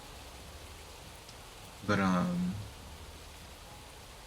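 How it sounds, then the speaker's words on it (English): Rain falls outside as a soft, even hiss throughout, while a person says a single short word partway through. "It's raining outside."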